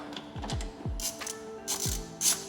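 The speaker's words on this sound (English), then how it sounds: "You're going to take these screws with the T25 Torx bit and just tighten them up." Screws on a Porsche Macan (95B.2) being tightened with a T25 Torx bit while installing a Flat 6 Motorsports intake system, giving a series of close ratcheting clicks and metallic turning sounds with short pauses.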